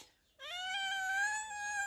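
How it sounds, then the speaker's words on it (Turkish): A cat gives one sustained, clear meow, close and alone after a brief quiet moment. "Miyavlayıp miyavlayıp diyor."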